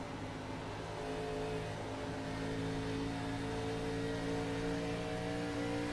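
A race car engine in a racing video game set at Pocono, a steady sustained whining drone with pitch climbing gradually as the throttle is fed in, heard alone.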